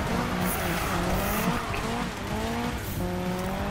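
Volvo 242 DL wagon doing burnouts and drifting in the Need For Speed video game on PS4: steady engine roar under long, wavering tire squeals that rise and fall, loud and continuous throughout.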